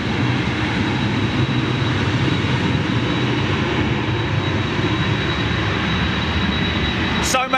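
A TUI airliner powered by Rolls-Royce Trent engines roars steadily at an airport, a broad loud engine rumble that holds throughout, with a brief clatter at the very end.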